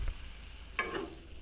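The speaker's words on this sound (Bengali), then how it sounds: "তারপর মাংসটাকে ভালোভাবে ভাজা মশলার সাথে মিক্স আপ করব।" Mutton pieces mixed with fried onion, garlic, chilli and spices sizzle quietly in a pan for mutton kala bhuna, a soft steady frying hiss with a brief stir.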